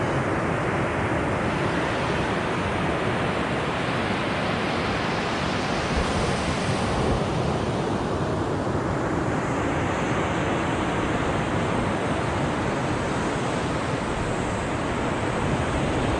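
Surf at Trinco Beach in Sri Lanka roars as a steady, dense wash of breaking waves, loud and unbroken, with wind buffeting the microphone throughout.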